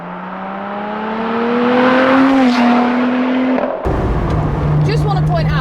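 A 2017 Lotus Exige 350 Sport on the road, its engine note rising loudly through the revs before a gear change drops the pitch, with coarse road and wind noise and the drone carrying on close by.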